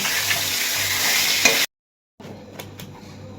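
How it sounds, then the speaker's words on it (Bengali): Fish heads frying in hot oil in a home kitchen give a steady, close sizzle with a light clink, then a brief silence before a quieter sizzle resumes with a couple of soft utensil taps. "একদিকে তো মাছের মাথাটা ভাজা বসিয়ে দিয়েছি"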